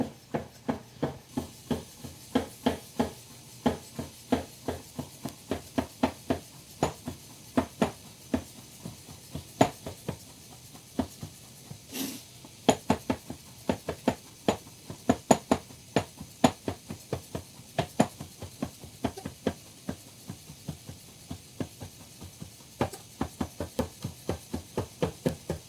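A big sharp knife chops rolled homemade gluten-free pasta dough into thin noodles on a board, giving a steady series of sharp, close knocks in a regular rhythm that runs on with no talking.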